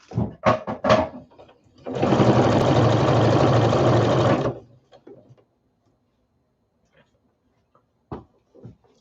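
Sewing machine stitching a quarter-inch seam on scrap quilt-as-you-go blocks, one steady burst of rapid whirring of about two and a half seconds, close, framed by clunks and handling noises before and a few faint clicks after.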